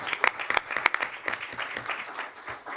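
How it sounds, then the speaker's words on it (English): Applause for a graduating high school class at a school board meeting, a scattered, moderately quiet round of clapping with sharp individual claps early that thins into softer patter. "So again, one more round of applause."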